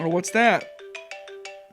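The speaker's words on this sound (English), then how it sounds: "I need to answer my phone. That's my ringtone." A phone ringtone plays a bright melodic tune with repeated tonal notes, close and clear, while a voice speaks briefly over its opening.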